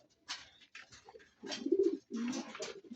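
Pigeons cooing close by in a loft, several soft throaty coos in short phrases separated by brief pauses, fairly quiet with no talk.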